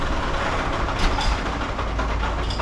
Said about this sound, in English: that noise you can hear, that's the Walker Bulldog